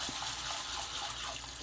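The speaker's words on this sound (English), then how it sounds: "But first, always wash your lentils." Red lentils being rinsed under running water, a steady gushing wash with no break, close and moderately loud.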